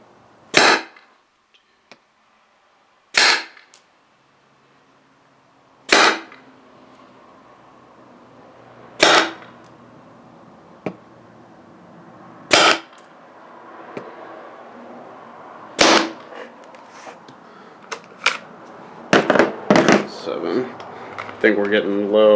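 Paintball marker, a TechT MRT bolt with a low pressure kit, shooting old paint: about a dozen sharp, loud single pops spaced a few seconds apart, with a double shot and quicker pops near the end.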